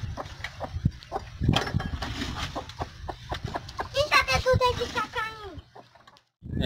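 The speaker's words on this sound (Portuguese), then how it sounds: "Vai ficar aí com a galinha agora, Amanda." A chicken clucks and squawks close by among scuffling and rustling, with a burst of agitated clucks near the end.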